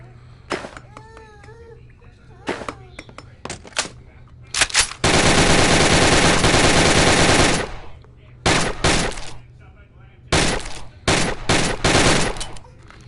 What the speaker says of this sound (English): So that's the AK.